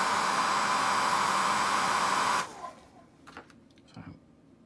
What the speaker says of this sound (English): So onto my hairdryer